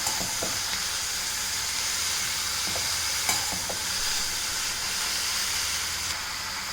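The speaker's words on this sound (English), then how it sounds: "You can crush it and put it, and give it a quick stir." Crushed curry leaves stirred into a hot pan with cut pumpkin and vegetables, a constant loud sizzle and frying hiss with a few soft scrapes and taps of the spoon.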